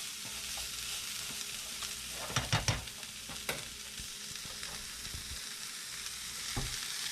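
Rice and vegetables sizzle steadily in a hot pan while a spatula scrapes and taps, producing a cluster of sharp knocks in the middle and a few more later, alone without talk.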